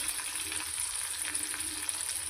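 Garlic sautéing in a pan over a low flame, a steady soft sizzle and crackle of frying that holds evenly throughout, close and alone with no talk.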